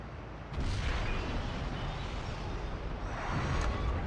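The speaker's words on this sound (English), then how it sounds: "Oh, I hear explosions." Distant explosions rumble in the Medal of Honor Underground video game, with a dense, steady low roar and swelling bursts of noise continuing throughout without speech.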